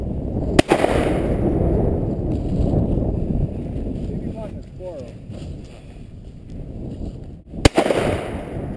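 Two sharp, loud shotgun blasts ring out during a quail hunt in Tennessee, spaced several seconds apart over steady wind noise outdoors, with brief voices in between.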